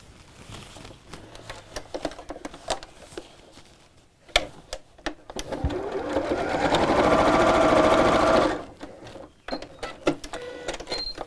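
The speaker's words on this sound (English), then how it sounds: "I'm just going to sew this facing downwards to the side of the bag" Sewing machine stitching webbing strap onto the side of a crossbody bag, a steady motor whir running for a few seconds in the middle, framed by scattered clicks and handling sounds before and after.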